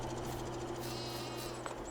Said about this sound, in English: the sheep are producing the wool